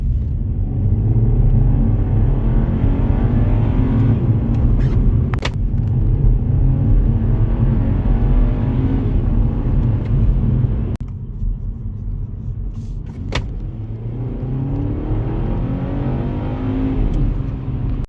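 A MINI Cooper S F66 with a seven-speed dual-clutch automatic accelerates hard, its engine note steady and loud with rising harmonic sweeps, a short break for gear changes around the middle, then pulling strongly again.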